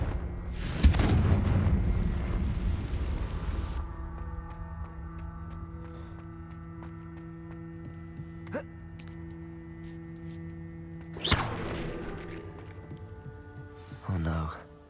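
Confringo blasting curses explode in Hogwarts Legacy: a heavy booming blast near the start, then two more sharp bursts near the end, over sustained game music tones.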